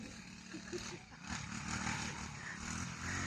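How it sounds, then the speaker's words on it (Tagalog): A grass cutter runs steadily on farmland being cleared, its continuous engine drone filling the scene at moderate distance while people talk over it. "Ayan, grass cutter."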